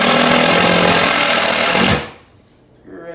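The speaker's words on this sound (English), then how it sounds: "I'm going to take some screws and screw this right to the countertop." A power drill runs loud and steady driving screws into a laminate countertop, then cuts off abruptly, leaving near silence before a faint clatter.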